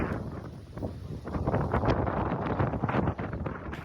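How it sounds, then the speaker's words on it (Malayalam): Strong wind buffets the microphone on a sunny outdoor spot in Qatar, a loud, continuous roar with gusting surges and no one talking. "നിങ്ങൾക്കിപ്പോൾ കേൾക്കാം കാറ്റിൻ്റെ ആ ഒരു ശക്തി."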